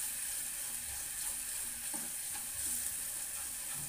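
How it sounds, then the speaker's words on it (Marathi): Chutney with Malvani garam masala sizzles and fries in oil in a pan, a steady soft crackling hiss with occasional stirring scrapes, fairly quiet and without talk. "चटणी चांगली तेलामध्ये परतून घ्यायची."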